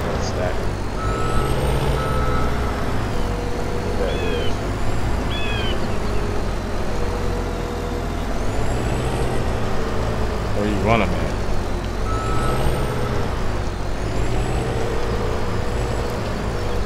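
A truck in a Farming Simulator game sounds repeated reversing beeps in regular bursts over a steady engine drone, with occasional air brake hisses, while a person talks throughout.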